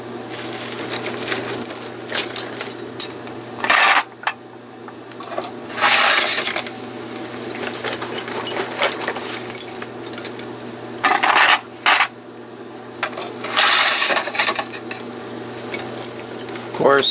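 Lead wheel weights slid off a piece of metal into a melting pot, giving bursts of metallic clinking and scraping over a steady background hum, loud and close.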